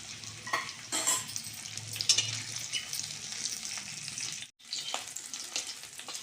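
Onions, ginger and dried red chillies sizzle in a pan with a steady crackle and intermittent scraping stirs, broken by one brief silent gap before frying resumes.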